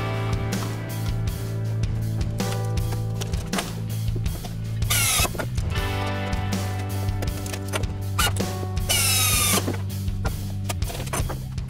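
Parts held together with clecos are drilled during a CNC conversion of a 7x12 mini lathe, giving a steady workshop hum with a continuous motor drone and bursts of high-pitched drilling whine, with no talk.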